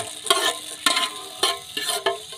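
Peas being fried in a pan, with a faint sizzle under several sharp, evenly spaced scraping stirs of a spoon, close and alone without voices.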